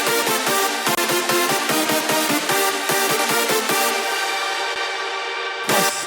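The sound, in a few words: big synth chord stab leads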